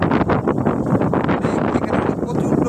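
Strong gusting wind sweeps through a village just before rain, a loud, continuous broadband rush with surging gusts buffeting the microphone throughout.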